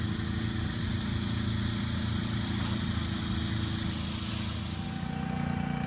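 A greens mower cutting tight championship putting greens at Indian Creek Golf Course runs as a steady, continuous engine drone with a low hum, constant in level throughout and with no voices.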